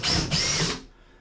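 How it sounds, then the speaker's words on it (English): A power drill boring a hole through wood aboard a wooden boat, one loud close whining burst that briefly dips in the middle and then stops abruptly, leaving quiet room tone. "I'll drill a hole through."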